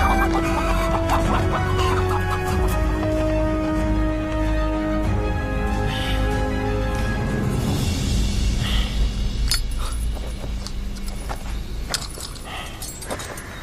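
Chickens cluck and a rooster gives a faint crow in a dramatized tomb-raiding adventure scene, set against a dense, continuous layer of other sound that thins out toward the end.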